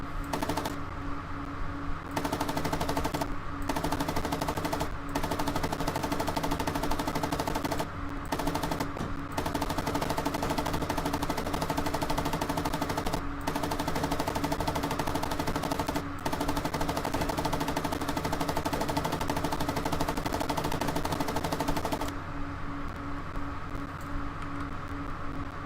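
Machine gun fire aimed at an M113 armored carrier in the PC tank game Gunner, HEAT, PC: long sustained rapid bursts broken by a few brief pauses, loud and continuous for most of the span.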